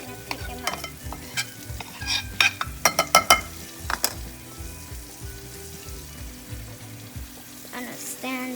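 Shrimp tempura fries in hot oil with a continuous bubbling sizzle, broken by a run of sharp clinks and taps of utensils against the pan, close and fairly quiet.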